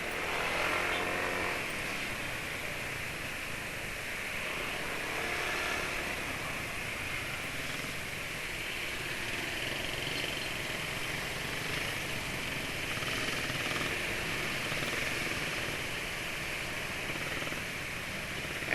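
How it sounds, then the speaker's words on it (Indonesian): A small-capacity Honda Beat scooter-style motorcycle engine runs steadily, its CVT transmission noisy, giving a continuous close whirring drone with a rough hiss that holds even for nearly twenty seconds without any talk. "Motor Honda Beat penulis itu ya gitu, CVT-nya berisik."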